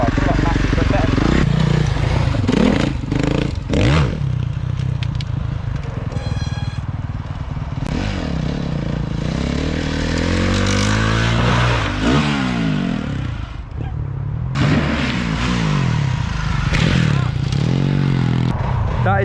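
A motorcycle engine revs and roars loudly throughout a ride on a big moto ramp, with clattering and scraping mixed in and people talking over it.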